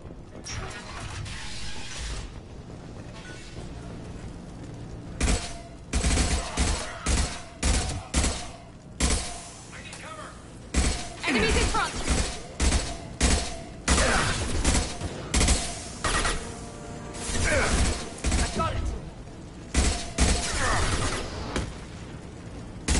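Bursts of gunfire from the Mass Effect 2 game, Blue Suns mercenaries and Vorcha shooting in rapid volleys and sharp cracks, loud and close after a quieter opening, with intermittent pauses between fusillades.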